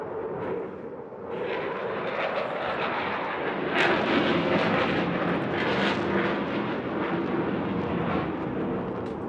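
A modern fighter jet roars through an agile display at the Bournemouth Air Festival, a loud, continuous broadband engine rumble that swells and holds steady as it passes close, with no talk.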